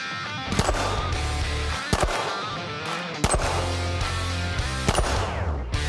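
A Sig Sauer P365-Fuse pistol fires several sharp, separated shots at irregular intervals over a steady musical background.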